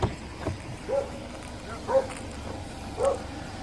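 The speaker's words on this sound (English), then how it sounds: "Yeah, Riley just barking until they go back there." A dog barks three times at a distance by a pond at night, spaced about a second apart, over faint outdoor background noise.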